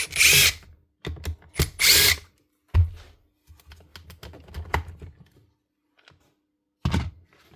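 A cordless power tool works on the screws of a Makita DUR181 cordless strimmer shroud, giving several short close whirring bursts with clicks and knocks between them and no talk.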